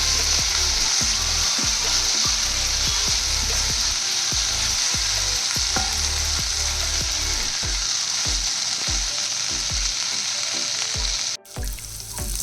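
Corn kernels frying in a pan for a quick lunch box recipe, giving a loud, steady sizzle and crackle that runs unbroken for most of the time, with occasional stirring scrapes before a brief dip near the end.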